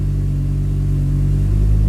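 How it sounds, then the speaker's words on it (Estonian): An Audi car engine runs at a steady, loud, close idle with a deep low rumble and a slight rise toward the end, with no voices. "Selle jaoks paneme pilli käima, ajame tõstukile"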